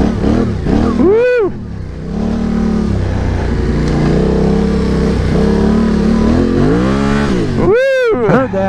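Yamaha Tenere 700 adventure motorcycle revving hard on a muddy trail, rising and falling engine whines bursting loud at the start and end with a steady droning engine between, tires spinning and flinging mud.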